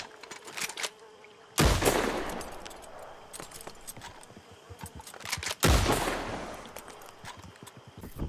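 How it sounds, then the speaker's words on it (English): Two loud, sharp Litchfield repeater rifle shots in Red Dead Redemption 2 crack out a few seconds apart, each followed by a long rolling echo, with faint insect-like buzzing and small clicks between them. "Now with a rifle, a Litchfield repeater"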